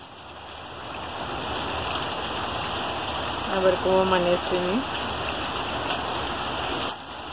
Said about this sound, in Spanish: Bastante granizo que está cayendo.